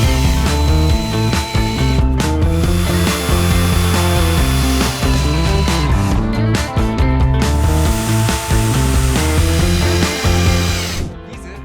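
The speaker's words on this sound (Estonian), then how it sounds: "kruvi lühikesed küljelauad nende külge väljaspoolt," A power drill drives screws through short wooden side boards into battens to form a box, the motor whining loudly and close in repeated bursts with brief pauses between screws, ending as it winds down.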